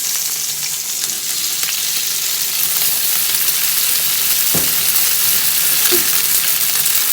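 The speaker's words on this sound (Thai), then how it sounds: "ใส่กุ้งลงไป กุ้งอันนี้ซุกง่ายค่ะ ตามด้วยเส้นนะคะ" Shrimp and noodles stir-fried for pad thai in a hot pan, a loud continuous sizzle with occasional scraping stirs, no voices.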